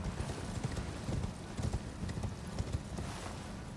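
Torrent the horse gallops across terrain in Elden Ring, its hooves drumming a quick, close, continuous clip-clop rhythm.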